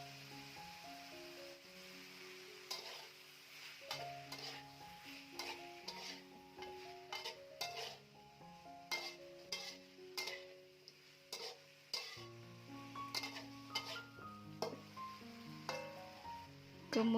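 Chopped long beans for a gulai are stirred in a pan, giving repeated scraping clicks and faint frying noise under steady background music.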